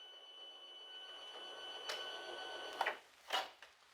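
A Fargo HDP5000 card printer feeds a cleaning card through, giving a steady mechanical whir with a few sharp clicks and clacks near the end, fairly quiet and with no talking.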